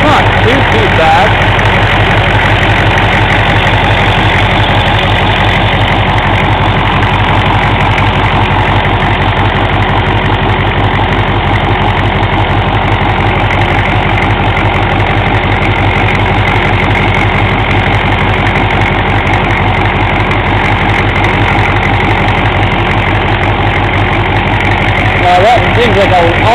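A freshly rebuilt 6.5L turbo diesel idles with heavy blow-by at the CDR valve, a loud, close, steady clattering rumble with an even rapid pulse throughout.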